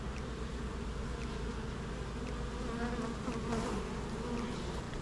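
Honey bees buzzing around an open hive, a dense, continuous droning hum from many insects close at hand, steady throughout with slight swells, and no talking.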